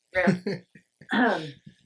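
Two short, harsh coughs or throat clears burst out close to the mic, separated by a brief pause.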